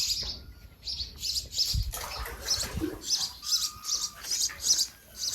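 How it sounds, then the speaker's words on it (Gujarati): Sparrows chirp repeatedly in rapid bursts at a farm well in an orchard, bright twittering calls near and fairly loud, with occasional wing flutters and faint rustling beneath. "ચકલા બાજો"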